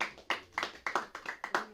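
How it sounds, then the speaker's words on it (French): A few people clapping for a player at a Coupe de France fifth-round draw event, sparse, distinct individual claps in a short, light burst at low level. "On peut l'applaudir."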